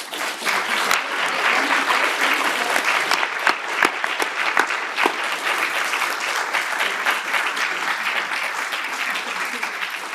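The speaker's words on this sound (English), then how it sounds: "give a huge round of applause to our excellent panel" A lecture audience gives a long round of applause to a panel after a talk on disability technology, with dense, even clapping holding steady at close range for the full stretch.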